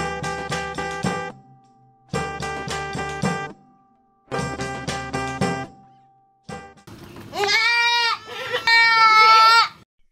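Peranakan Etawa goats on a goat farm bleat loudly and close by, several repeated calls in bursts separated by short pauses, with a higher, wavering bleat toward the end.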